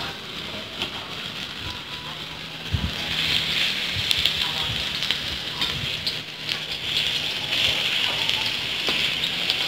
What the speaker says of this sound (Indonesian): langsung saja kita panaskan minyak dan kemudian kita tumis jahenya ya